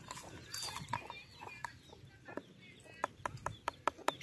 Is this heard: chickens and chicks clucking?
yes